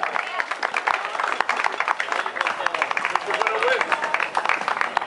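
A crowd at a rugby awards ceremony claps in steady applause, many hands at once, continuous and fairly close, with some voices mixed in.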